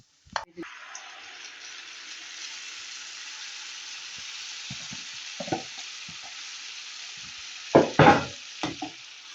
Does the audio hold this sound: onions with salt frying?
yes